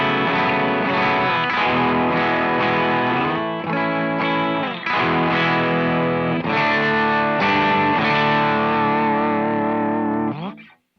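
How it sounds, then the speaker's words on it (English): An electric guitar runs through an always-on edge-of-breakup overdrive pedal on a small worship pedalboard. It plays a flowing series of chords and notes with a light, gritty sustain, then cuts off sharply at the end. "this is kind of my like edge of breakup sound."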